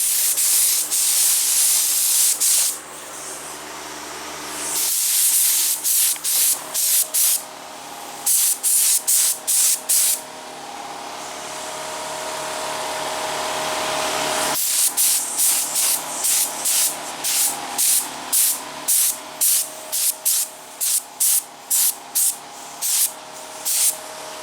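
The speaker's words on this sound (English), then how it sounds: "I'm gonna spray a .006 silver micro flake." Spray gun laying down silver .006 micro flake paint in long loud hissing bursts, several extended passes followed by a rapid run of short repeated triggers, close up with no talking.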